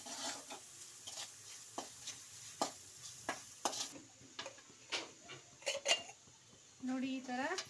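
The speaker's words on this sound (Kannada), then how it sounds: "ಈ ಥರ ಒಂದು 5 ನಿಮಿಷ ಎಣ್ಣೆಯಲ್ಲೇ ಫ್ರೈ ಮಾಡಬೇಕು." Food frying in oil in a pan gets stirred with a utensil, giving irregular scraping and tapping strikes over a faint sizzle, with a brief voice near the end.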